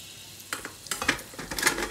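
Pork cracklings (chicharon) fry in hot oil with a low steady sizzle, broken by sharp popping crackles and a few metallic scrapes of a utensil against the pan, close and moderately quiet, with no voices.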